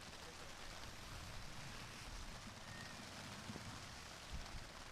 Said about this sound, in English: As the rain comes down even further.